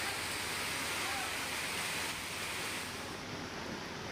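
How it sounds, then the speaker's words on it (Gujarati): A raging river swollen by heavy rain, a dense unbroken rushing roar of floodwater that stays loud and steady throughout. "વરસાદને કારણે નદીનો ભયંકર ધસમસતો પ્રવાહ જોવા મળ્યો"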